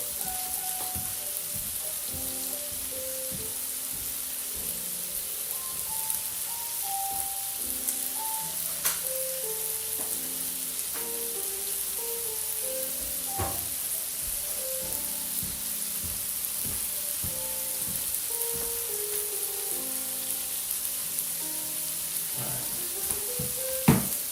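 Breakfast food fries on a griddle with a continuous even sizzle, punctuated by occasional sharp pops and clinks, while a melodic tone sequence plays faintly in the background.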